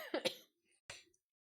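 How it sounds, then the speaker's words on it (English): A person coughs twice in quick succession, close and fairly loud, then after a short pause gives one more rougher cough or throat clear, with silence between. "I've been trying to get over this cough for a while now"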